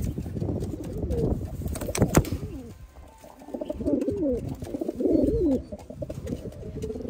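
Tiger line pigeons in a loft coo in repeated rolling, throaty phrases at close range, with a burst of rustling and flapping early on and a lull before the cooing resumes.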